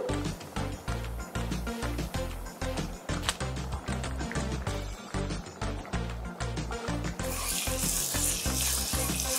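Dried basil sizzling in hot oil in a pan, loud close crackling with a steady rhythmic scraping pulse throughout, turning to a brighter hiss near the end.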